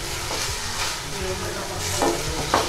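Paneer manchurian sauce with soy sauce is stirred in a pan over low gas, with a soft continuous sizzle and a few scraping strokes of the spoon, close up and with no talking.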